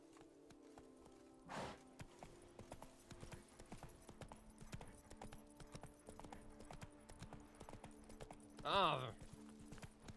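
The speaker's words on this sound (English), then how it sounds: "There he is, our flashy horse." A horse's hooves clip-clop steadily in The Witcher 3, a rhythmic run of close, crisp hoofbeats, with a short voice exclamation and a faint whinny-like rise near the end.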